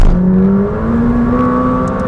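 McLaren 600LT supercar accelerating hard on a race track, its engine note climbing steadily and loudly through the revs, close and continuous with no talk.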